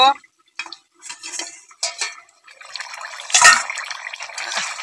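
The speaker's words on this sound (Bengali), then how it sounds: "এবার নেড়ে চেড়ে নেব।" A spoon stirs chicken curry with onions in a pot, giving intermittent scraping and clinking against the metal in short bursts, ending in a louder clatter of utensils near the close.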